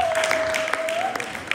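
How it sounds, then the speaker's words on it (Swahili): A church congregation at a Passover service claps for the pastor in steady, dense applause, with a sustained instrument tone running underneath. "Pigie mchungaji makofi."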